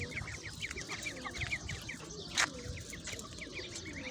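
Young chickens, put out in the morning sun on a small farm, cluck and peep in quick repeated bursts throughout. One brief sharper squawk stands out among them, and the whole flock sounds fairly faint.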